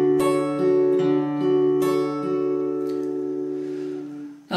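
Acoustic guitar plays the first bar of a song intro, fingerpicked notes ringing together in a gentle, even pattern, close-miked and solo.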